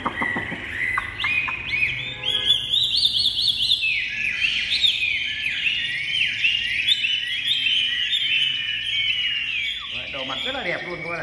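A Chinese hwamei songbird, newly arrived and kept indoors, sings loud and close in a long continuous run of rich, varied whistles and rapid warbling trills with no pauses.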